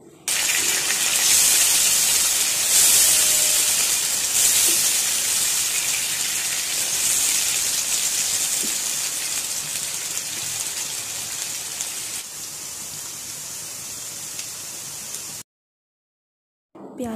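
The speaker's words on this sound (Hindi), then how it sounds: "हम प्याज़ों को तब तक फ्राई करेंगे जब तक प्याज़ों का कलर ब्राउन ना हो जाए।" Onions frying in a pot for mutton pulao give off a loud, steady, hissing sizzle that runs continuously and cuts off abruptly near the end.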